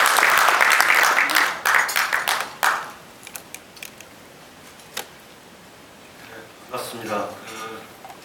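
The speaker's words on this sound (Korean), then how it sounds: "여러분 뜨거운 박수로 환영해 주시기 바랍니다." An audience at an inauguration ceremony applauds to welcome a lawmaker: a loud burst of clapping for roughly three seconds that quickly dies to scattered claps, followed by a voice starting to speak.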